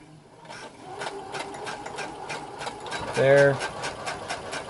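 Sewing machine stitching a pilot harness belt, its motor running in a steady rapid rhythm of needle strokes, close and fairly loud, with a brief word spoken over it.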